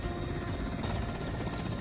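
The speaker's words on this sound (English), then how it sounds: "the Mi-8 calmly lands at the location where the pilot may be found" An Mi-8 military helicopter coming in to land, its broadband rotor and turbine roar steady and loud throughout with a faint rhythmic blade chop.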